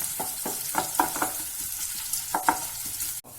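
Onion deep frying in oil, a steady background sizzle broken by irregular scraping stirs, ending in a brief dull knock.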